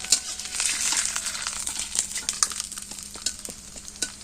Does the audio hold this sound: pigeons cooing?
no